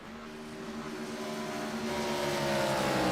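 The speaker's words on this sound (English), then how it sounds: "It's quite ironic listening to these drivers just coast through the corners trying to save as much fuel as humanly possible" Next-gen NASCAR Cup race cars with 800-plus horsepower engines coast through the corners of a Chicago street circuit, their steady drone heard from a distance and swelling slightly louder toward the end.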